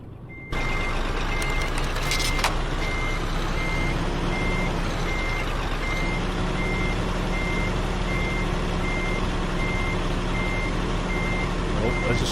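A reversing truck in a trucking simulator game gives off a steady, evenly spaced run of loud beeps, which repeat over a constant engine drone.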